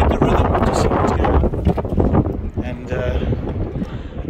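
Blustery wind at Kalk Bay Harbour buffets the microphone in a loud, continuous roar with gusty surges throughout, with no clear words.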